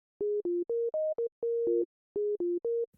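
Randomly generated synth sequence from the Arturia Pigments 6 sequencer: a string of short tonal notes that hop between several pitches, with uneven note lengths and a brief gap before the pattern restarts, heard alone.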